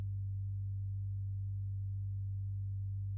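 Synthesizer holding straight sustained notes with the arpeggiator switched off: a steady, low, smooth tone that drones evenly at moderate level without pulses or breaks.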